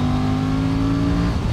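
A steady, loud engine drone from an Aprilia RS 457 motorcycle holds an even pitch up close, with a slight dip near the end.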